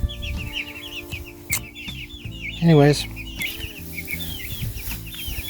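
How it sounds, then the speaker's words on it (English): Thirty-four young chicks in a chicken tractor, a busy chorus of high peeping chirps and soft clucks close by, with one louder, longer call standing out briefly; a person speaks a word over them. "All 34 chicks in the tractor, getting used to each other."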